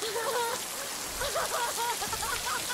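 Steady rain pouring down on open ocean water, a dense close hiss of drops with faint tonal sounds drifting over it, no speech.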